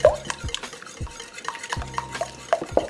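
Eggs and heavy cream are whisked in a bowl, producing quick rhythmic clinking and scraping strokes close by, with no talking.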